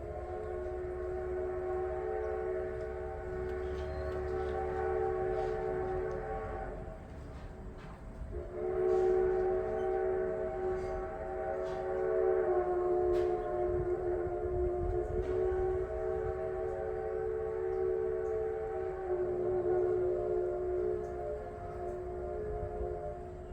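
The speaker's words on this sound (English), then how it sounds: "simply listen to the train work back and forth through town" A Cumbres & Toltec narrow-gauge steam train works back and forth through town, a steady sustained rumble with a long tonal whistle-like drone running through most of the span, fairly distant and without talk.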